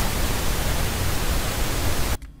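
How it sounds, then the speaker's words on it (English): Steady pink noise test signal from Ableton Live, a dense, even hiss spread across the whole range, loud and continuous, then cut off abruptly near the end. "So there's this thing called pink noise,"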